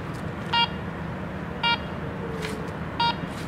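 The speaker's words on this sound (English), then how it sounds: "You get to the mid-tone, it has more of like a beep to it." Garrett Ace 300 metal detector giving its mid-tone signal: three short, clear electronic beeps spaced about a second apart over a steady background hum, with no one speaking.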